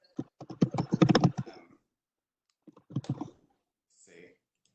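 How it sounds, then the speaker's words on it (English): Clicks of typing on a computer keyboard during an online genealogy group call, rapid bursts of keystrokes in two clusters with a pause between, fairly close with light background noise. "Okay, Sarah, you don't realize how loud I'm typing until somebody points it out on a webinar."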